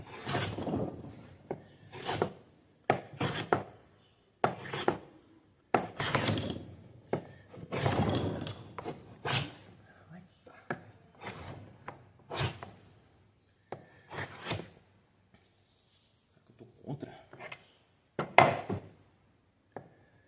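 A hand plane, freshly sharpened on oil stones, shaves thick curls from a wooden workpiece in repeated rasping strokes, each a short scraping burst followed by a pause, up close and with no talk.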